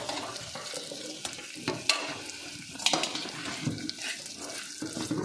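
Chopped kuchla sizzling and frying in desi ghee while being stirred in a pan, a steady close crackle broken by scraping and clinking strokes, with no talk.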